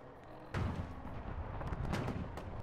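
Artillery fire in the video game Fallout: New Vegas: a sudden heavy boom followed by a rumbling series of blasts and bursts, loud and sustained over a few seconds, with no voices.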